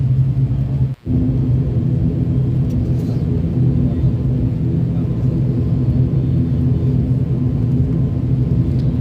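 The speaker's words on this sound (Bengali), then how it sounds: "স্টার্ট হয়ে গেল রানওয়ে থেকে আস্তে আস্তে স্পিড বাড়তেছে" Inside a passenger plane on a Dhaka to Cox's Bazar flight, the engines give a loud, steady roaring rumble as the aircraft accelerates down the runway, with one brief dip near the start.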